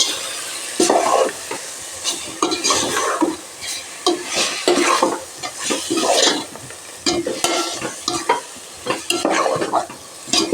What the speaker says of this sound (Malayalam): കഴുകി വെച്ചേക്കുന്ന ചിക്കൻ ഇട്ട് കൊടുക്കുകയാണ്. നല്ല പിഴിഞ്ഞ് ഇട്ട് കൊടുത്തിട്ട് നമുക്ക് നല്ലോണം ഇളക്കണം.